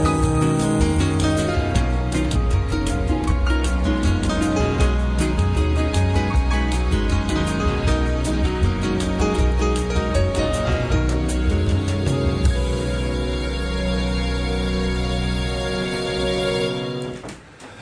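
A studio guest's song plays as a full, dense musical mix for its whole length, steady and loud before cutting off abruptly at the end.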